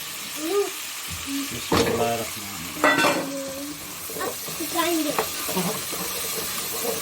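Potatoes go into a sizzling spice paste for spinach and potato curry, giving a soft crackling fry with clattering and scraping of the pan, while a voice speaks briefly between the sounds.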